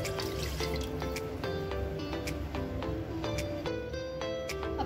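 Coconut milk streams into hot ghee with fried cashews and raisins in a pan for mutton rava biriyani, giving soft liquid trickles and scattered drips with light clinks, quiet and close, with no talk.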